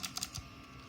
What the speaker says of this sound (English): they will think of Blue Switch due to its distinctive clicking and activation sounds like this.